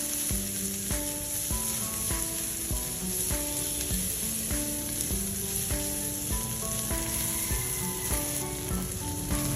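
Chopped onion sizzles steadily in hot oil for noodles, a constant close crackle under background music with a regular beat.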